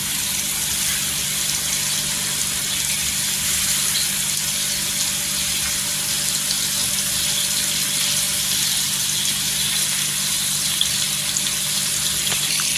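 Bombay duck (bombil) fish, washed in water, sautéing in hot oil in a pan, giving a steady, close, even sizzle with no breaks and no talk.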